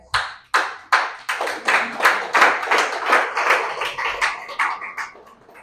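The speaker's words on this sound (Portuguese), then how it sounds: "Deus não merece um aplauso de pena?" An audience at a religious workshop claps in rhythmic unison, a series of sharp, evenly spaced collective claps that swell and fade, loud and close with no talk over them.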